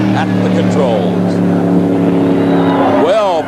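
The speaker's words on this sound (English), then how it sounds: "The Model A Berry Wagon heads down the track" A Model A Berry Wagon drag car runs down the track at a 1979 drag race, its engine roaring loud and steady with a rising pitch, while an announcer talks over it.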